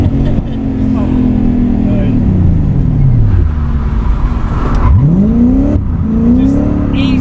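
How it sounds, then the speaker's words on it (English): A 1UZ V8 swapped into a Nissan S14a 200SX drift car, loud and close, lightly blipped: revs fall away around the two-second mark, then climb sharply in a rising whine and settle into a steady, throaty hold. "but just tickling the throttle, just tickling it"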